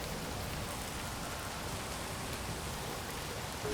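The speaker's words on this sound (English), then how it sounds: "can I change the audio of rain?" Steady rain sound effect from the video game Space Engineers, a dense, even hiss of falling drops with no pauses or voices.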